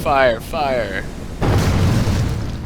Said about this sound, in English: you put in the catapult stone or the missiles that the catapult will fire